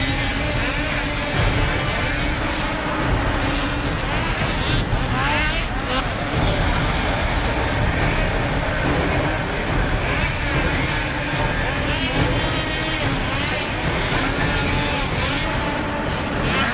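Snowmobiles race in an AMSOIL Championship Snocross event inside the Pontiac Silverdome in Michigan, with a dense, loud engine roar that runs steadily throughout and rises and falls slightly as machines battle for position.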